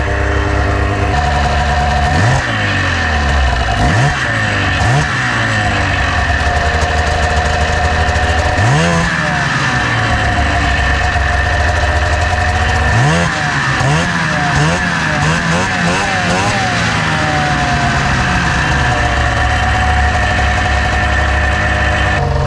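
A 1999 Arctic Cat ZR600 snowmobile engine with CV Tech clutches revs up and drops back repeatedly, its pitch sweeping up and down over a loud, steady idle close by.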